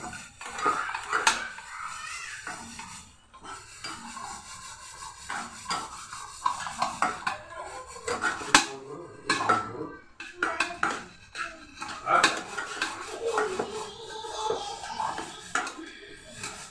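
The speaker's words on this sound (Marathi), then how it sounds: "ते पण असे मस्त परतून घ्यायचे आपण आधी तुपात भाजून घेतले तरी सुद्धा नंतर परत त्याच्यामध्ये मस्त भाजले गेले पाहिजे" Moong dal halwa mixture roasts in ghee in a pan, heard as repeated scraping and clinking of a spoon against the metal pan, rising and falling in irregular bursts, with a faint sizzle underneath and no clear talk.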